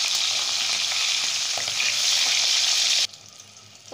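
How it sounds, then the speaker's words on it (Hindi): Rohu fish fry in hot mustard oil with a loud, dense, steady sizzle that cuts off sharply near the end, leaving quiet room tone. "अब हम इन मछलियों को फ्राई कर लेंगे"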